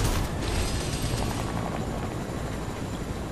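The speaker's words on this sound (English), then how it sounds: "I'm gonna cover you in my helicopter." Helicopter in a video game, a steady loud rotor drone with broadband engine roar holding throughout, close and continuous with no talk over it.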